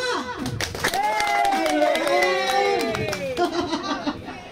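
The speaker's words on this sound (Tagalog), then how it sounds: "Ang hina ng palakpak." Thin, scattered clapping from a small group, weak and uneven, with voices and laughter over it.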